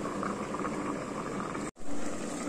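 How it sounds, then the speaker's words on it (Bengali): Eggs boiling in a covered pot, a dense, steady bubbling hiss close by, broken by one short cut-out before the boiling resumes. "এবার ঢাকনাটা দিয়ে অনেকক্ষণ ফুটবে।"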